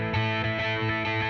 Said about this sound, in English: Now let's create a really long reverb with the electric guitar